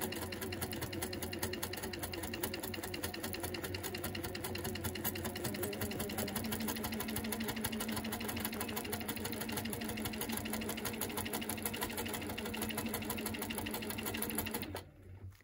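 A sewing machine runs steadily for free-motion quilting stitches over an applique, a fast continuous mechanical chatter close up that stops abruptly at the end.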